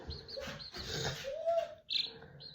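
A hatched baby chick peeps in faint, high chirps, a few short tweets scattered over soft background rustling and handling noise.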